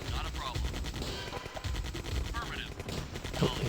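Infantry gunfire crackles steadily in Command & Conquer: Tiberian Dawn, a dense, continuous stream of small-arms shots layered with game effects, unbroken for several seconds.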